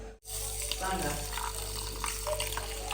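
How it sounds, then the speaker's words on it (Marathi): Water poured from a tap into a sink to soak rice for a Marathwada khakhrata dish, a steady close splashing flow running throughout, with a voice speaking over it. "पाणी टाकते"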